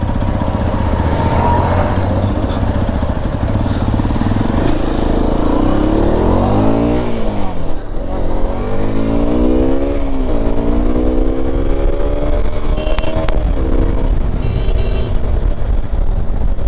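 A Hero XPulse 210 motorcycle on a test ride revs loud and close, its engine note sweeping up and down through repeated accelerations and gear changes over steady wind and road noise.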